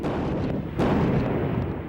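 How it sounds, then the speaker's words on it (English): A Marine artillery barrage fires into Iraq, heard as a dense, continuous roar of booms with one sharper blast standing out midway, loud and sustained with no clear gaps. "Cannoneers of 111 Marines were given the order to launch the first artillery barrage into Iraq"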